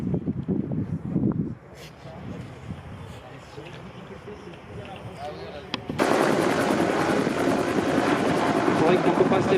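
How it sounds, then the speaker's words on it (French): A helicopter taking off at a helicopter event, its engine and rotor noise swelling into a loud, dense, steady roar in the second half, with people talking near the start. "Et donc maintenant il y aura un décollage."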